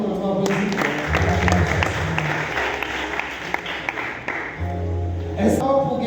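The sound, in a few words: applause at a wedding ceremony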